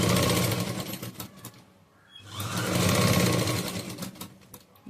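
A sewing machine stitches a churidar in quick rattling bursts, pausing briefly before running again with a fast, loud mechanical chatter close by.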